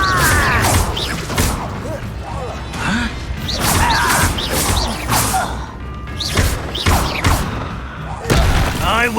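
Incendio fire spell cast in Hogwarts Legacy, heard as repeated booming bursts, crashes and whooshes in a busy stretch of combat, with voices in the mix.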